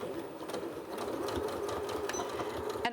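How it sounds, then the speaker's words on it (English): A sewing machine stitches straight down the sides of a fabric face mask with a 3/8 inch seam allowance, a steady close whirring hum over faint background sound. "we're gonna sew straight down the sides"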